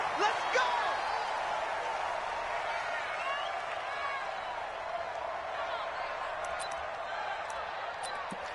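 Stadium crowd cheers and roars steadily through a PS4 football video game broadcast of the New England Patriots against the New York Jets, a dense, continuous wall of noise with occasional sharper shouts.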